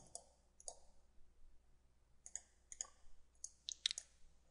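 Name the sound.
mouse clicking in SolidWorks CAD software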